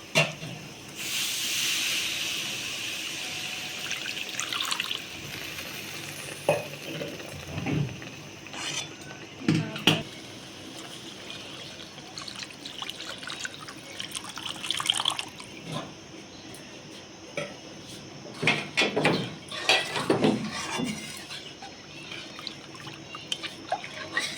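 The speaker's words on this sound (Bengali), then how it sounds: "মশলা আমার ভালো করে কষে গেছে আমি এবারে জল দিয়ে দিচ্ছি" Water poured into a pan of fried masala for a fish curry, with intermittent splashing and dripping, faint tap-like trickles and a hiss running through, moderately quiet and close.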